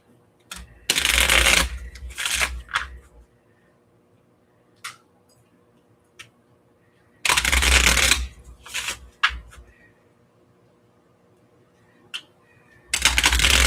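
A deck of playing cards is shuffled in three loud, close bursts of dense riffling, with a few light clicks and quiet pauses in between.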